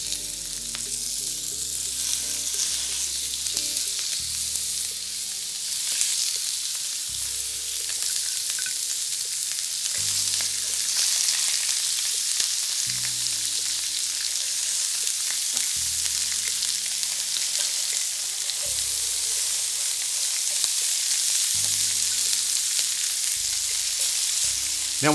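Lobster tails searing meat side down in a hot pan, giving a loud, continuous close sizzle and frying crackle with no talking.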